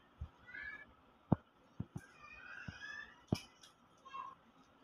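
A cat meowing at feeding time, several short mews and cries scattered between sharp knocks and clatter, fairly close, with no talk over it.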